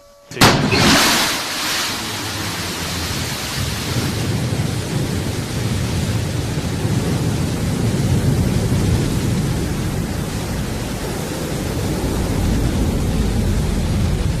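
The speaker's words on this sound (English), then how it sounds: "Beautiful liftoff from our launch site 1 in West Texas" Blue Origin New Shepard rocket lifts off from its West Texas launch site, a sudden loud crack giving way to a sustained, deep roaring rumble that stays powerful and steady throughout.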